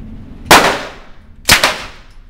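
Two loud gunshots from a heavy gun at an indoor police firearms range, spaced about a second apart, each a sharp close blast with a short decaying tail.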